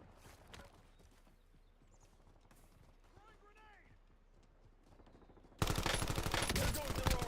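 Warzone combat with a sudden loud burst of rapid automatic gunfire near the end, after a quieter stretch of distant shots and scattered movement; voices speak over it.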